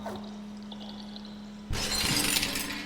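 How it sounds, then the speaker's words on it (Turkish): Glass pushed off a ledge by the cat in the video game Stray shatters suddenly and loudly after a quiet stretch with a steady hum, the breaking crash and tinkling fragments filling the final second. "İttir şunu. Kır camı."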